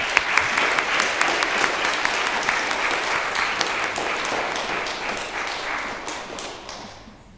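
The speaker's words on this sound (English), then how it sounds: "let's give those students one more round of applause" Audience applause for students at a Lutheran school spelling bee, a sustained burst of dense clapping that holds steady for several seconds and then fades out.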